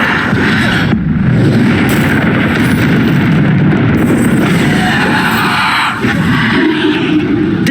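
Bombarda spell blasts in Hogwarts Legacy combat, loud booming bursts and rumbling impacts layered over busy game noise, with sharp hits at intervals.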